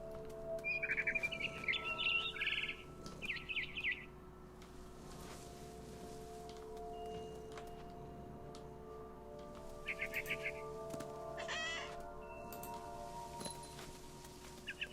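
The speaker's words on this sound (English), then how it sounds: "I tried to be quiet, but the bird was really scared." A frightened bird chirps and clucks in the video game What Remains of Edith Finch, with short bursts of high twittering near the start and again later over a quiet ambient background.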